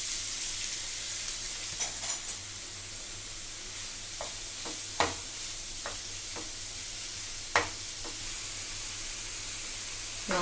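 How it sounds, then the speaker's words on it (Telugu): Onions fry in oil in a pan with a steady, moderate hiss, broken by a few sharp clinks and stirring knocks at scattered moments. "పాన్ పెట్టుకున్నాను, ఆయిల్ పోసుకుంటున్నాను. ఇందులో ఆనియన్స్ వేసుకుంటున్నానండి."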